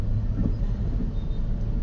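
Low, steady rumble of heavy road traffic on Commonwealth Avenue, a dense murmur of car and bus engines heard from inside a vehicle, brief and continuous with no talk.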